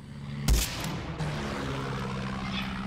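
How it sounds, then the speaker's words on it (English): Aircraft in the video game Far Cry 6 passes overhead amid gunfire, a sharp loud burst early followed by a steady droning engine roar that persists throughout with a few more impacts. "Is that plane coming back?"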